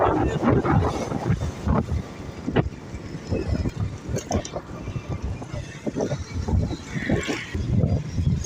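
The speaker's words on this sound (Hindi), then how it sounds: "मैं अभी जो है ना मोटरसाइकिल पे सफ़र कर रहा हूँ" Wind buffets the microphone while a rider travels on a motorcycle along a road in Pakistan, a loud continuous rushing roar with gusting low thumps, and someone talks over it.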